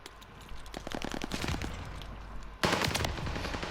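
Automatic gunfire in Call of Duty Vanguard, rapid bursts rattling close and loud, then a sharper, louder volley near the end, with no talk over it.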